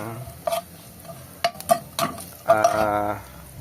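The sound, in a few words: chicken feet cooking in a pan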